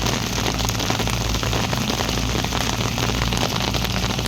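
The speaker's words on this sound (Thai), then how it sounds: "ท่ามกลางสายฝน ฟ้าบรรดาลเจอฟ้าประทานน้ำฝนมาให้" Heavy rain pours steadily in a rural outdoor spot beside a pickup truck, a loud, dense, unbroken hiss of drops drumming on surfaces with no voices.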